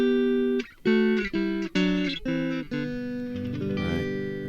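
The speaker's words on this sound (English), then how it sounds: "just electric guitar Strat straight into the Tascam" A clean Stratocaster electric guitar plugged straight into a Tascam recorder, with plucked chords and single notes ringing out in a short phrase, clear and close with no effects.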